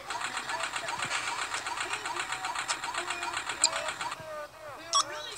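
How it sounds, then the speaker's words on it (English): A vacuum runs steadily in a video game, a buzzing, pulsing mechanical drone for about four seconds that cuts off, followed by brief chirpy game effects. "Let's use a vacuum."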